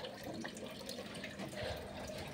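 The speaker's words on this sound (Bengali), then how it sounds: "এখানে খাওয়ার জল ভরছে।" Drinking water fills from a tap in a home, a faint, steady running splash with light gurgling, continuous and unaccompanied by speech.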